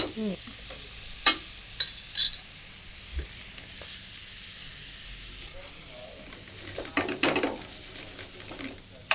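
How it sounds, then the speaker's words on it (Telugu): Tomatoes fry in a pan for methi chicken curry with a soft, low sizzle. A utensil scrapes and clinks sharply against the pan in scattered bursts, busiest near the end. "ఈ టమాటాలు వేసుకున్న తర్వాత కాసేపు ఫ్రై చేసుకుందామండి"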